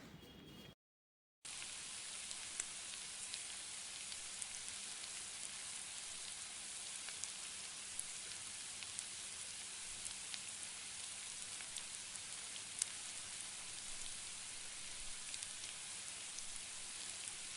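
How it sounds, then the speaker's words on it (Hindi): Chicken with yogurt being fried in a pan over a medium flame for chicken yakhni, a steady, faint hiss of sizzling that runs continuously after a brief silent gap near the start. "अब दही डालने के बाद हमने चिकन को ना थोड़ा अच्छे से भून लेना है"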